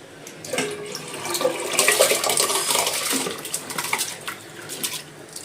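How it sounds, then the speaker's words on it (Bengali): Water runs from a tap into a cooking pot for rice, a rising splashing gush that peaks midway and tapers off, close and alone. "অর্ধেক হাঁড়িতে জল দিয়ে দিয়েছি।"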